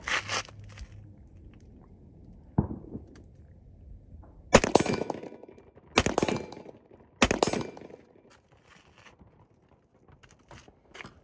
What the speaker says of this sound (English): 3 rounds of the flash jacket.